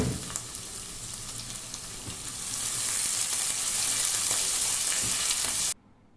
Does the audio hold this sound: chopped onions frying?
yes